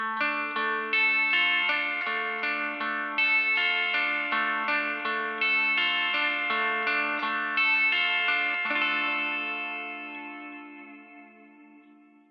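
Clean electric guitar tone from a Line 6 Helix processor and Variax modeling guitar, playing ringing arpeggiated chords with light echo and modulation, steady and up close, fading out at the end.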